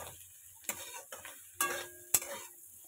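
Onions fry in a pan with a low, steady sizzle, broken by a few sharp spatula clicks and scrapes against the metal as they are stirred.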